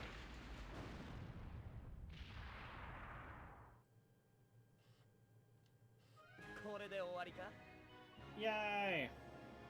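Two loud, rumbling explosions go off in the Skies of Arcadia video game, one after the other, each fading out over about two seconds, followed by a quieter stretch and then voices.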